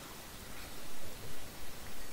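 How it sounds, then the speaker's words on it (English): Steady broadband hiss of rain falling in the video game Minecraft, a soft continuous wash with gentle swells, heard alone without any voices. "And you know what? It is raining right now."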